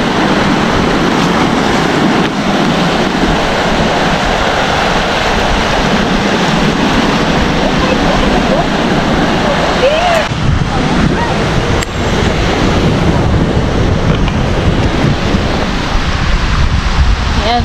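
Strong ocean surf pounds the beach at San Juan, La Union, a loud continuous roar of breaking waves mixed with heavy wind buffeting the microphone across the whole stretch.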